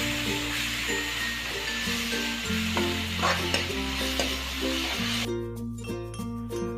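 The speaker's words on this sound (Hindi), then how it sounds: "इसके बाद हमारा दही वाला मिक्सचर और उसको अच्छी तरीके से हम मिक्स कर देंगे।" A yogurt mixture is stirred into frying onions and cashews for a restaurant-style paneer butter masala gravy, giving a loud continuous sizzle with stirring scrapes, close, under background music.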